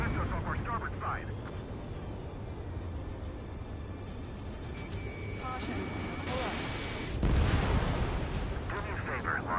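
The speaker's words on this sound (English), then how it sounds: "Their artillery fire just missed us off our starboard side." Artillery fire in the video game Ace Combat 7, low rumbling booms amid continuous battle noise, with a heavier blast near the end and radio voices talking over it.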